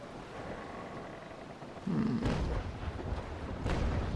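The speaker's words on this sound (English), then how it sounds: "Let's prepare to give him a full broadside." Ship cannons fire a broadside in the Naval Action age-of-sail video game, with a heavy booming rumble joined by sharp cracking shots spread over a few seconds amid loud battle ambience.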